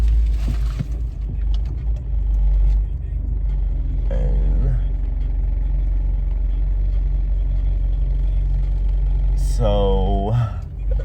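A car engine rumbles low and steady while driving and pulling in to park, with people talking over it throughout.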